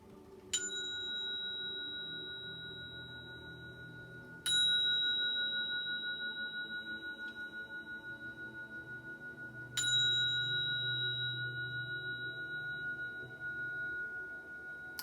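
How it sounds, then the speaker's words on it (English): A singing bowl is struck three times, each strike leaving a long, pure ringing tone that slowly fades with a gentle wavering pulse, quiet and alone. "Well, not the bell, but the singing bowl."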